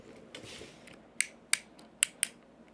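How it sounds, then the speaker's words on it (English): Four sharp, bright clicks from the ratcheting joint of a Studio Series 86 Transformers Slug Dinobot action figure being posed, heard close and alone in quick, uneven succession. "There's a slight ratcheting to it, so it kind of locks into place when you're posing him."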